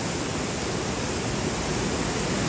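Heavy rain pours hard over Athens, Greece, a steady dense roar with no breaks and no voices.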